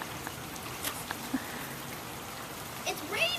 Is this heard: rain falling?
yes